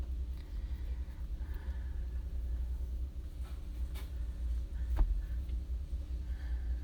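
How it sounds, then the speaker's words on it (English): An idling car vibrates with a steady, low rumble that continues throughout, broken only by a few faint clicks and taps. "Yeah, it's the car vibrating."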